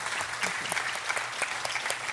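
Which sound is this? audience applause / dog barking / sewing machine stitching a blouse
audience applause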